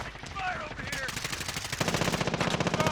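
Rapid automatic gunfire in the Warzone shooter game, a dense string of loud shots rattling continuously with distorted in-game sound throughout.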